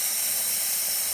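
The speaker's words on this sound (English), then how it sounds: "As you can see, we're having good steam coming out of the machine." Steam wand of a serviced DeLonghi Magnifica S coffee machine blowing a steady, loud hiss of steam throughout, with no voices.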